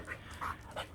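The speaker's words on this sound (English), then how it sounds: "Man, the dogs are going crazy today." Dogs pant in quick, soft rhythmic breaths with a faint excited whimper, close by and quiet, no talk over it.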